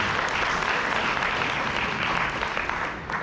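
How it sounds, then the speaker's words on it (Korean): A seminar audience at a resort claps in a thick, continuous wash of applause that stays loud for several seconds before easing slightly at the end. "박수 한번 주세요."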